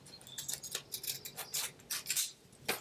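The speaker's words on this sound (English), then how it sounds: "Use my scallop scissors for the edges of some of those too." Scallop-edged scissors snip through paper and denim pieces for a handmade mini book, a quick series of crisp, close cuts at low volume with no talking.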